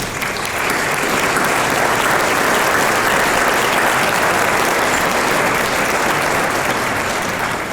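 A large audience applauding at a live stage show, a steady, loud roar of many hands clapping that holds for the whole stretch without a break.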